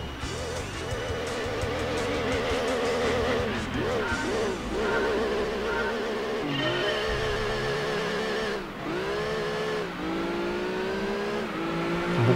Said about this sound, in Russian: Буксует на старте довольно сильно концептик.